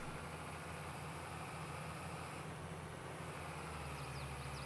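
Old tractor in Farming Simulator 22 labouring under a full manure spreader: a continuous low, droning engine note with a faint steady hum, quiet and unchanging, with no talk.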